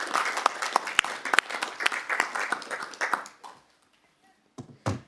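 An audience at a council meeting claps during an award presentation, a few seconds of lively clapping that fades out, followed by silence and a couple of brief knocks.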